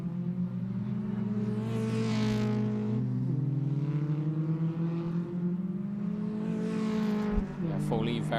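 Race car engines roar through turn 3 of an ICCR round, a loud sustained whine that shifts pitch as the cars pass close by, with a brief sharp knock near the end.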